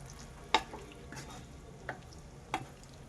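Marinated paneer in a pan for paneer capsicum masala, stirred with a few sharp scraping and clinking strokes over a faint, steady sizzle.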